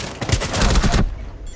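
Rapid gunfire from Rainbow Six Siege on the House map rattles in a dense, loud volley for about a second. It then cuts off, leaving faint quiet.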